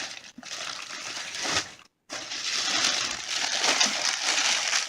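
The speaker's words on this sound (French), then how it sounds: "Donc j'enlève le papier." Loud, close paper rustling and tearing continues steadily, broken by a brief silent pause, then resumes crinkling vigorously.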